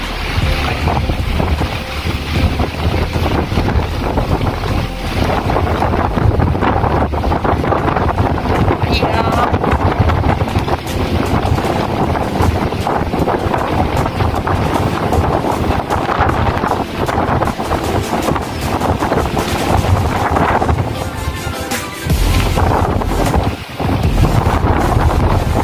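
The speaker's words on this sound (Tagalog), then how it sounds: "So, ayan, lakas-lakas pa rin ng hangin." Strong typhoon wind in Hong Kong roars continuously into the microphone near the sea, a loud buffeting rush with churning water and surf beneath it throughout.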